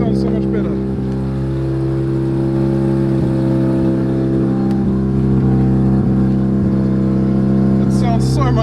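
A Mazda RX7 FD rotary engine runs loud and close with a high, uneven idle, its pitch lifting in a few short revs. The engine is still smoking and leaking.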